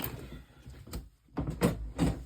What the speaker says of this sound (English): sorry, it's just the sound of my desk drawer